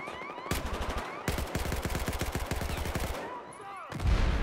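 Automatic gunfire rattles in quick repeated bursts during a Battlefield 4 competitive esports match, with crossfire between players separated by short gaps and a louder burst at the end.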